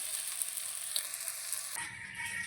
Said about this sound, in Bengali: এবার আলুটা ভাজতে বসিয়ে দিয়ে আমি মশলাটা কিন্তু করে নেব।